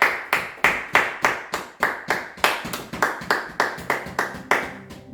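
Church congregation clapping hands in a steady, rhythmic beat, about three claps per second, close and loud throughout.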